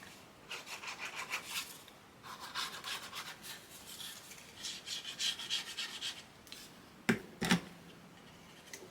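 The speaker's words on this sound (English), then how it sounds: "you're going to go ahead and fold and burnish" Repeated rubbing strokes of a tool burnishing folded paper for a scrapbook album, steady scraping passes close up with a few sharper taps near the end.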